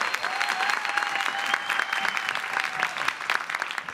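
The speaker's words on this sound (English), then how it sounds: "Another round of applause." A round of applause for an award honoree at a film editors' event, dense and sustained clapping from an audience filling the whole stretch at steady loudness, with no one speaking over it.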